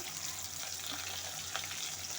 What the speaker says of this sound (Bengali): মাছের মাথাটা উল্টে পাল্টে